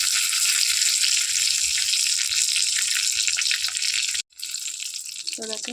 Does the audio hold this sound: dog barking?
no